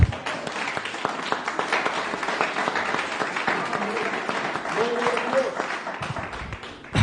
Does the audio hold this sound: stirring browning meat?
no